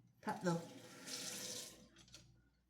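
Tap water running into a sink as it warms up, a hissing, splashing stream that starts with a few gurgles, runs steadily, then tapers off near the end.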